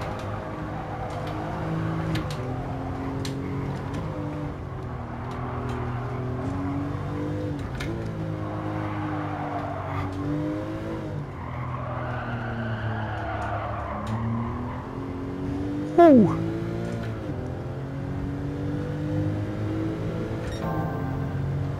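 Racing car in Gran Turismo 7 driving hard, rear end sliding as third gear is engaged, with a steady loud engine drone rising and falling through the clip, tire skid noise, and a brief sharp transient near the end.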